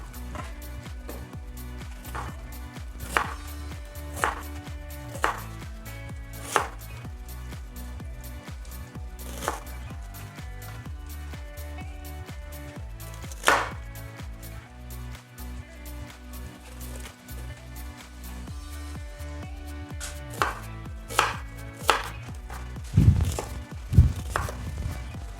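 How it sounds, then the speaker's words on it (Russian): Onion sliced into half rings with a knife for a smoked-meat solyanka: a series of sharp, close chopping taps in irregular rhythm over steady background music, with no talking. "Нарежем лук полукольцами."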